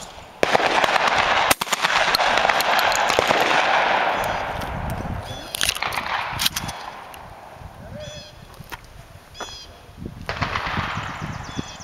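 Shotgun blasts at clay targets, a few sharp loud reports followed by a long rolling echo and faint outdoor ambience, with scattered clicks and thumps and some voices in the background.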